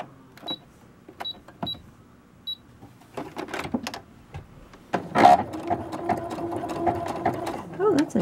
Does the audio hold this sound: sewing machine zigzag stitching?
yes